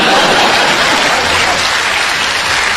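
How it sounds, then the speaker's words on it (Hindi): Dense, steady applause from an audience at a Hindi poetry recital fills the space, loud and close, with no talk over it. "और अब आपकी तालियां उठेंगी"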